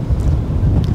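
Strong wind buffets a microphone outdoors on an unpaved gravel path in the flood-hit Ahr valley, a steady low roaring rumble with gusty swells throughout.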